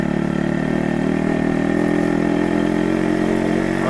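A motorcycle engine runs steadily and fairly loud throughout a gentle test ride at low speed, a continuous even drone with no voices.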